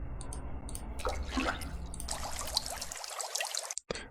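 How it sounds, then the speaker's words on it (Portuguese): A water sound effect for minimal tech music production plays as bubbly, dripping trickles and gurgles, close and fairly loud, with the texture changing partway through and then briefly cutting out. "Se a gente pegar aqui um efeito, por exemplo, de água"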